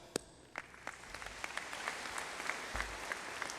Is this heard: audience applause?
yes